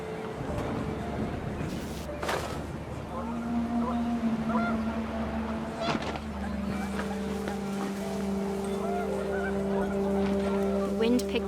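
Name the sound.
geese honking in video game What Remains of Edith Finch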